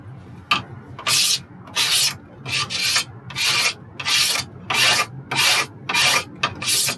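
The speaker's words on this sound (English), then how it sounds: "So I'm going to scrape the sharp edges down." A handmade bamboo saw has its sharp edges scraped down in a series of about eleven rhythmic rasping strokes, each a short bright scrape close to the microphone with brief pauses between.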